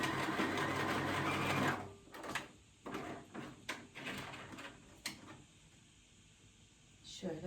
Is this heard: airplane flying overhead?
no